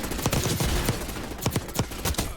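Rapid bursts of automatic gunfire ring out in a Call of Duty Warzone match, with sharp clustered shots that come in quick, uneven volleys, some near and loud and others echoing farther off.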